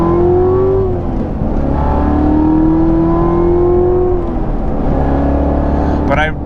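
A 2018 Chevrolet Corvette C7 Z06 Carbon 65 with a manual gearbox is heard from the cabin during a rev-matched downshift. Its engine gives a loud, continuous drone that swells and sags in pitch.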